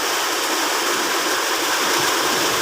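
Heavy afternoon rain pours down in a rural farm area, a loud dense unbroken hiss of falling water filling the scene with no talk.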